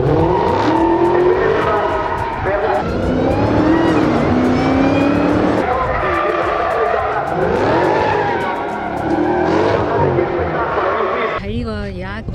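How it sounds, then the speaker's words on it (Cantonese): A supercharged V8 Dodge Challenger SRT Hellcat runs on the track at a Monza car show in Milan, its loud engine roaring and revving through sustained rising and falling pitch sweeps, heard throughout beneath someone talking. "Dodge Challenger SRT Hellcat 去落場跑一轉啦 ，Supercharged V8 喎，咁啊梗係要聽下佢落場尖叫聲啦"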